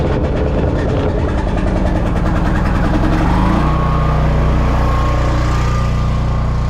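A generator on a cold start runs with a loud, steady mechanical drone that shifts pitch partway through and then settles into an even hum.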